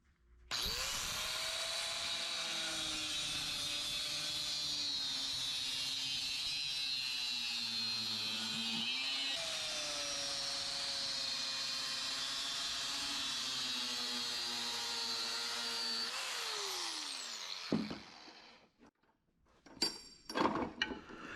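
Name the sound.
small Dremel rotary tool cutting satellite dish feed horn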